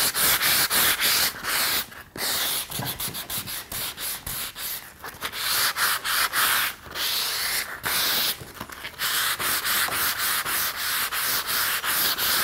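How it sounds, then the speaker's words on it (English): Furniture painted with Fusion mineral paint is rubbed to wet-distress it, giving loud, close, rhythmic rasping strokes with brief pauses between bursts, with no talk. "when you do a little wet distressing, it also makes it really smooth."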